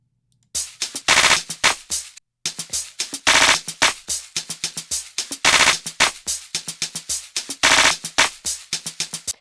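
Sharp, percussive hits are chopped into rapid stuttering bursts by the repeat effect of a stock Logic Pro plug-in set to four repeats, giving machine-gun-like rattling runs in a driving rhythm, loud and close.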